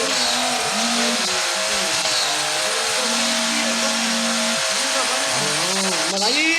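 A Roblox racing game car drones loudly and continuously, its engine tone rising and dipping as it speeds along, filling the whole stretch without a break.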